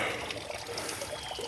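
Water trickles and dribbles through a pipe set in a small beaver dam, a faint, thin, continuous flow heard close up.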